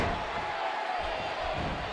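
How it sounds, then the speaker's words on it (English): Arena crowd noise in WWE 2K18 as an event in Paris, France gets under way: a steady, dense roar that holds evenly throughout, with broad cheering and no clear individual voices. "there's nothing quite like the crowd we have here tonight in Paris"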